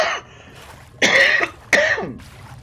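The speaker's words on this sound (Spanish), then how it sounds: "Perdonadme por la tos." A person coughing during a Spanish-language playthrough of The Witcher 3: three harsh, close coughs, one short cough at the start followed by two louder bursts about a second apart, with quiet game sound between.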